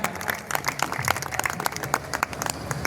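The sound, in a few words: audience applause at poetry recital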